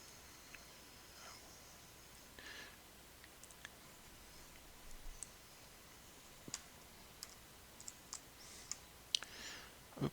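A computer mouse clicks several times during a cluster software setup: sparse, sharp little clicks scattered over a faint background hiss, with no speech.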